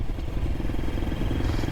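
A 2023 KTM 350 SXF dirt bike engine with a Vortex ECU, running on race gas, with a steady, rapid rattling four-stroke drone held close and loud throughout.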